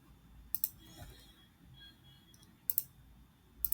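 Computer mouse clicks while testing a React tic-tac-toe app, three short bursts of quick double clicks spaced a second or two apart, crisp and close over a faint background hum.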